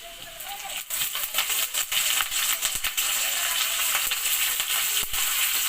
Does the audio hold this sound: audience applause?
no